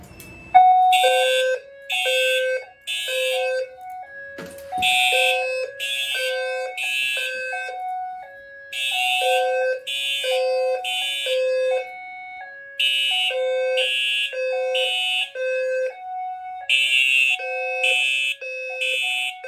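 A Fire-Lite MS-9600UDLS fire alarm system sounds loud and clear during a test in repeating bursts of electronic tone patterns, each cycle with stepped pitches and bright buzzy pulses, separated by short pauses.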